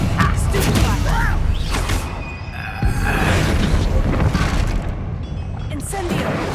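Fire spells and combat booms from a Hogwarts Legacy fight in a goblin mine, dense rumbling blasts and crashes layered under a voice talking over the action.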